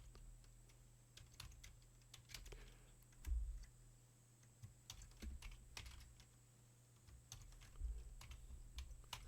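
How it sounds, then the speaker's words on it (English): Quiet, irregular keyboard typing, bursts of soft clicks with short pauses between them, close by and with no talking. "Sorry about my typing"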